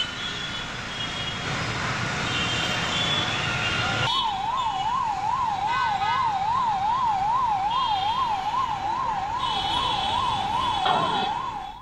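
Fire engine siren wailing at a commercial complex fire at RTC Cross Roads in Hyderabad, rising and falling rapidly for most of the stretch over loud street and traffic noise, after an opening of general road rumble.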